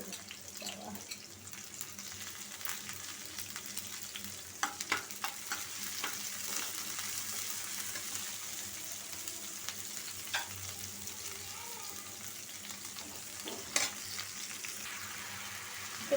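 Chickpeas frying with chopped onion and green chili in hot oil in a wok, a steady sizzle with occasional stirring clatter throughout, fairly quiet and without talk.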